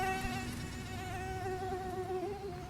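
A mosquito whines in a continuous high buzzing drone with slight wavering pitch, close and steady throughout, no voices present.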